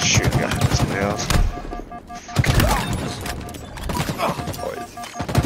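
Rapid gunfire from an online shooter video game in ranked play, bursts of shots repeating through the clip over constant game noise, with players talking throughout.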